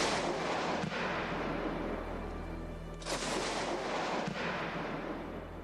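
Artillery shelling during the war in Bosnia, heavy booming blasts with long rolling rumbles, one especially strong impact in the middle, loud and echoing over a continuous low background.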